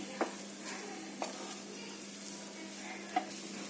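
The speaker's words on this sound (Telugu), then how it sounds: "వేసుకొని ఒకసారి మిక్స్ చేసుకోండి. లైట్గా కలుపుకోండి, బాస్మతి రైస్ కదా ఫ్రైకి అయిపోతుంది." Basmati chicken fried rice with salt is stirred in a hot pan, making a soft, steady sizzle broken by a few light scraping taps of the spoon; quiet, with no voices.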